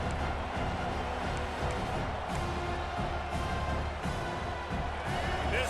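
Continuous stadium crowd roar from an EA Sports College Football 26 game, a steady broad wash of distant fans holding at an even, moderate level throughout.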